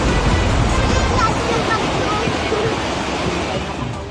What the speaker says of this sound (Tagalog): Rumaragas ang baha na may kasama pang lahar ang naranasan sa ilang bahagi ng Ginobatan, Albay